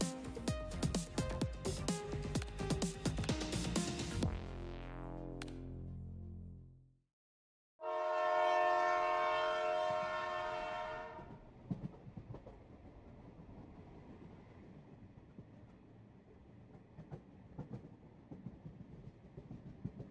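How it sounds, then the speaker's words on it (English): A video game train thunders past with a loud clattering rush that fades away. After a brief silence, a second loud passage with a bright tonal whine comes through and trails off into quieter rail noise. "in the intervals between the passing trains."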